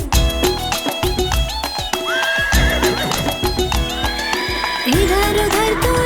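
A horse in a Hindi children's rhyme neighs and whinnies loudly several times over clip-clopping hoofbeats and bright music.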